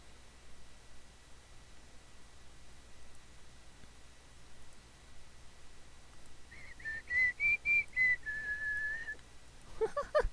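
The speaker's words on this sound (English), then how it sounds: "Just the random whistle, just because." A random whistle sound effect in the video game Gems of War plays as a single melodic whistle, rising then falling, lasting a few seconds over a quiet, hissy background.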